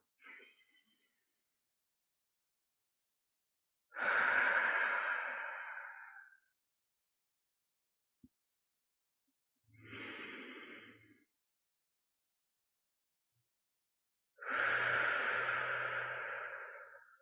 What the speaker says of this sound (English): deep cleansing breaths right now.